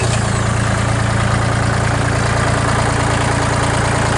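A Kubota L2501 compact tractor's diesel engine idles steadily and loud throughout, a continuous low rumble with a faint knock, close by and unbroken.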